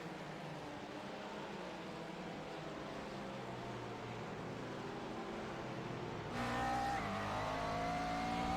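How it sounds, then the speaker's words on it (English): McLaren MP4 12C GT3 race car engine heard on board during a GT3 sprint race at Spa-Francorchamps, a steady loud engine roar that rises in pitch with a sharp revving climb near the end. "on board with Joshua Grosso on the McLaren MP4 12C GT3"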